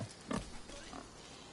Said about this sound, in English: Still a happy pig.